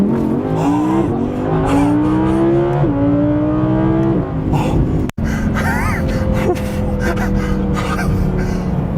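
An Audi R8 with a V10 engine accelerates hard at high speed, its loud engine note climbing through rapid gear changes in stepped rises, close and dominant, with brief exclamations from an occupant.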